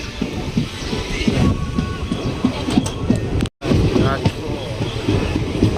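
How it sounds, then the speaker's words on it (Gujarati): A Vande Bharat express train rumbles past close by near Rajkot, a steady rolling roar with rhythmic clatter, and voices talk over it. "પછી દેખાઈ ગઈ ભાઈ આપણને વંદે ભારત"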